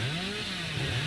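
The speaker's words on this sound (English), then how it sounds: "Maybe get a chainsaw here." A chainsaw revs steadily in the horror game Dead by Daylight, wielded by the Hillbilly killer, a continuous buzzing motor drone lasting about a second with slight pitch wavering, loud and close, with no talking over it.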